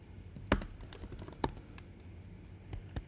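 Quiet, uneven clicking of keys on a computer keyboard, with a few sharper strikes standing out among soft irregular taps, close to the listener with no speech.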